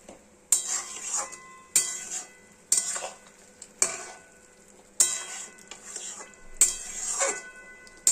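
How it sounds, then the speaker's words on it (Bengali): Poppy seed paste is stirred into ridge gourd and potatoes in a pan over high heat. A utensil strikes and scrapes the metal about six times in a slow rhythm, each stroke followed by a brief sizzle, close and clear. "তাই গ্যাস বাড়িয়ে ওটাকে মিশিয়ে দিচ্ছি"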